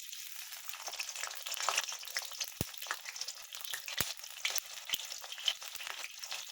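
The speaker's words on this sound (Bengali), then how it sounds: "এবার যে পেঁয়াজটা কুচিয়ে রেখেছিলাম সেই পেঁয়াজ কুচিটা দেবো।" Chopped onion goes into hot oil and fries with a steady, crackling sizzle, close and fairly quiet, while a few sharp utensil taps ring out against the pan. No one speaks.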